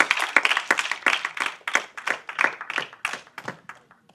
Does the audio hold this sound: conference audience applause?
yes